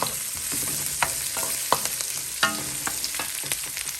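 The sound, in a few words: stirring vegetable stir-fry in a pan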